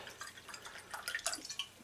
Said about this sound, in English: I'm using cider vinegar, apple cider vinegar, and I'm topping that up